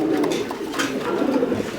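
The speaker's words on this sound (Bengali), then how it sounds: "এই ডাকতেছে এটা নরাই" A male satin pigeon coos at a market stall among other pigeons, a low continuous cooing that runs throughout under faint background crowd noise.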